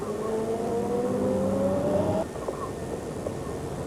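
Formula 1 race car from 1989 pulling out of the pit exit, its engine note rising steadily in pitch for about two seconds before cutting off, leaving a busy circuit background with faint clicks.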